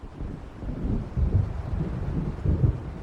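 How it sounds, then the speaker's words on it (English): Low, rolling rumble of thunder from an approaching storm over open water in Alan Wake Remastered, swelling in a few deep surges amid steady wind noise, with no voices. "It seems there's a storm coming."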